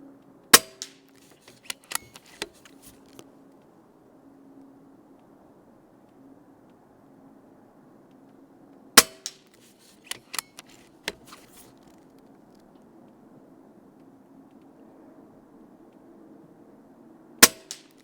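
A Pinty Striker PCP .22 air rifle fires pellets at targets: three sharp, loud cracks about nine seconds apart, each followed by a few quick fainter ticks and knocks, over a quiet outdoor hum.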